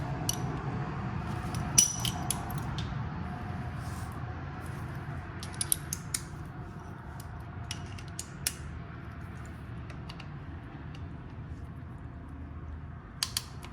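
Quiet ratcheting and faint metallic clicks while T30 Torx bolts are removed from a Ducati Panigale V4S case cover, soft intermittent tool sounds over a low background rumble.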